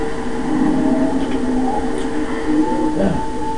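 Steady train rumble from the video game Pokemon Colosseum, set at a desert stop, with a low continuous drone, tonal hum lines and a slight squeal near the end, loud and uninterrupted.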